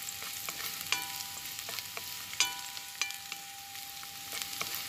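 Squash sizzling and frying in a pan while it is stirred, a constant hiss broken by sharp scraping knocks of the utensil at irregular intervals.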